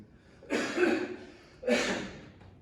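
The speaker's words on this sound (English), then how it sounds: "I gotta clear my throat." Two rough, breathy throat-clearing bursts close to the mic, separated by a short pause, with no talking.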